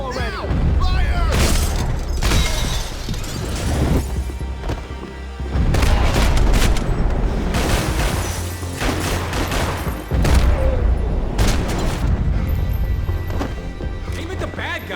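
Gunfire from Max Payne 3 rattles through a chaotic firefight. Repeated bursts and heavy booms come in waves over a thick mix of game noise, with voices talking over parts of it.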